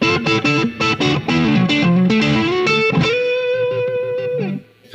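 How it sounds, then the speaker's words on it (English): An electric guitar plays through a Blackstar HT Stage 100 MK III 100-watt amp set to short hall reverb, with quick distorted chords followed by a sustained note that rings out and then fades. "Kind of the short hall reverb."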